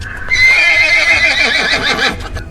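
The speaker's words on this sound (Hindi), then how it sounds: "एक पॉइंट पे आके घोड़े ने जो है थोड़ा सा वो एक हरकत सी की, हिनाने की" A horse gives a loud, close whinny, a long quavering neigh that wavers and falls in pitch over about two seconds, with faint low rumbling beneath.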